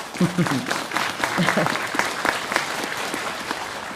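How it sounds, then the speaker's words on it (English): An audience at a spiritual teaching gathering claps in a lively, continuous burst, with voices talking over and through the applause. "Why are you clapping?"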